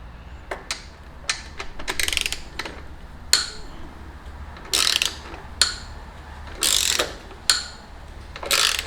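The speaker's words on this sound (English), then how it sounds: "And then torque it down to 32 foot-pounds." A torque wrench tightens a frame slider bolt on a 2019 Kawasaki Ninja ZX6R 636, giving close, crisp ratchet clicks in short uneven bursts with brief pauses between strokes.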